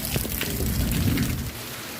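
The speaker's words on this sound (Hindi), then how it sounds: "माशाल्लाह बहुत ही तेज़ बारिश हो रही है" Heavy rain pours down outside a home in a dense, steady roar with scattered louder splashes, loud and close throughout.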